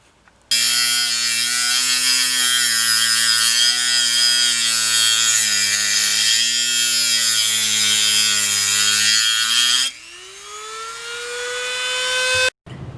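A small inexpensive Dremel rotary tool cuts through steel pop rivets on motorcycle exhaust parts, a loud steady high-pitched whine held for about ten seconds before spinning down with a falling tone, close and alone.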